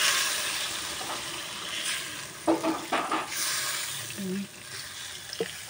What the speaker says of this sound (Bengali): জল ঢেলে দিলাম